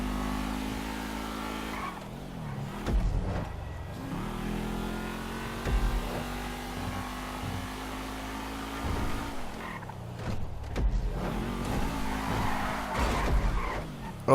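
Cars racing in the video game GTA Online, engines revving and changing pitch with tire squeals and skids, continuous and fairly loud.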